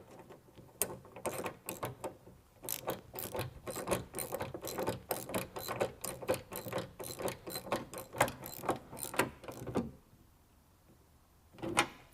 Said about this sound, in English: And then swap your ratchet round to tighten.